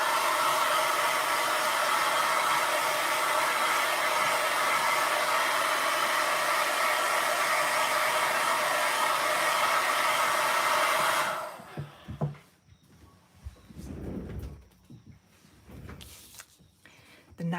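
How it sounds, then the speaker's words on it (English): A hair dryer blows steadily and loudly for about eleven seconds, drying a watercolour painting on paper, then cuts off, leaving quieter handling and shuffling noises. "I'm gonna go switch on the hair dryer"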